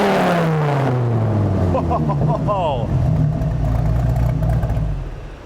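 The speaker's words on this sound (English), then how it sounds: "I've never heard a Viper sound like that." A Gen 2 Dodge Viper V10 with an FMU custom exhaust revs loud and close, a deep engine roar that rises and falls, with a brief exclamation from a bystander partway through.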